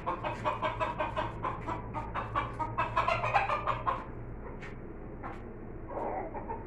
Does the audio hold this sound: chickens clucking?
yes